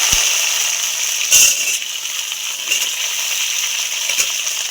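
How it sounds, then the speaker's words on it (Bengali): Pieces of taro and potato fry in hot oil in a kadai, making a steady bright hiss with a few brief clatters of pieces and a spatula breaking through the sizzle. "সুন্দর করে ভাজতে হবে কচু আর আলুটা দিয়ে দেবো"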